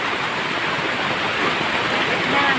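Steady rain hisses evenly throughout, a dense, close wash of patter with no pauses.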